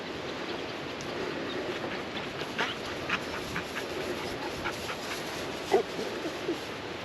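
A dog gives high, faint squeaks at irregular intervals over a constant wash of background noise, with a slightly stronger squeak late on.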